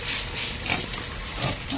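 Mixed-breed pig grunting in a pen during washing, a few low rough grunts close by over a steady wash of background noise, no talking.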